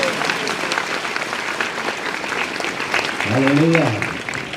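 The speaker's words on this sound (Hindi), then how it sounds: "जोर तक तालियां हो जाए।" A church congregation at a healing crusade claps loudly and steadily, and a voice rises over the applause near the end.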